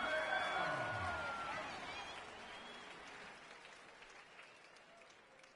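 A stadium crowd cheers loudly in an American football video game, Green Bay Packers against Los Angeles Rams, a broad roar that swells at first and then slowly fades to a steady murmur. Brief bits of talk sit underneath.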